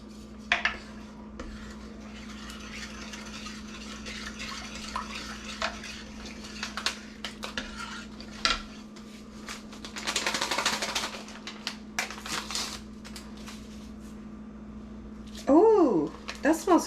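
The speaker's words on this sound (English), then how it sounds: "Okay, we're gonna stir this together." A spoon stirring crockpot pulled pork, with soft scraping and clinks against the pot, a few sharper knocks near the end, under a quiet room hum.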